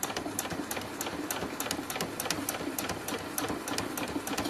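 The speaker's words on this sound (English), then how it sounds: "I'm going to sew down these design lines like that." A sewing machine runs steadily at a slowish pace, stitching design lines into a small dollhouse-size quilt, its needle producing a rapid, even mechanical chatter that continues throughout without talk.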